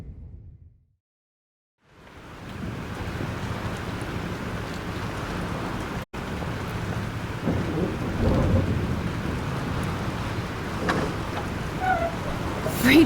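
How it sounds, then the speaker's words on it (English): Thunder rumbles over steady heavy rain in a Life is Strange storm, with a short dead gap near the start before the downpour swells and holds at a constant roar. "This storm is real."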